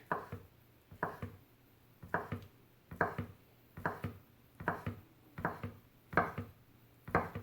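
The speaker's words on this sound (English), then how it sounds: "So we do want to chop it up real fine." A knife chops and minces food finely on a cutting board while bacon SPAM bits are prepared, giving steady rhythmic knocks about every half second, close and clear with no talking.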